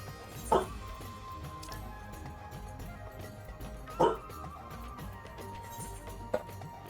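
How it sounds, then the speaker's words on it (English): A dog seeking attention gives three short, faint yips or whimpers at uneven intervals over quiet room hum, with no speech. "Dog's trying to get my attention."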